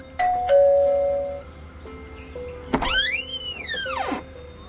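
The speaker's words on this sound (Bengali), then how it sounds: "বাড়ির কলিং বেল বাজায়" An electronic doorbell sounds: a two-tone chime at the start, then a rising and falling warbling melody about a second and a half long. No one speaks.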